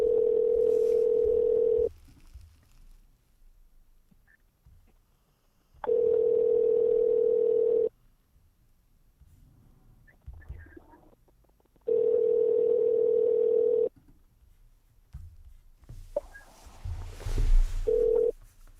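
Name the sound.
telephone call tone before voicemail answers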